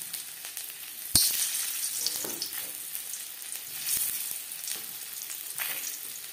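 New potatoes, boiled and cut into pieces, fry lightly in oil with a soft, crackling sizzle, marked by a sharp clink near the start and a few light taps of stirring.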